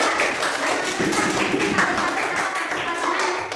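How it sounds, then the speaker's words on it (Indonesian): Classroom applause for a student group, a dense, steady patter of many hands clapping together at moderate loudness throughout, with no voices over it. "Kita berikan tepuk tangan untuk kelompok 3."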